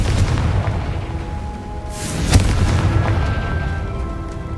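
Confringo blasting spell in Hogwarts Legacy goes off as a sharp boom near the middle, cutting through a steady low rumble of game ambience and faint tones. No one talks.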